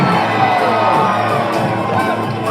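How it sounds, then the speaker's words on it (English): Wedding reception guests scream and cheer together as a loud, continuous crowd roar with whoops and high shouts, sustained evenly throughout. "I need you guys to scream as loud as you can"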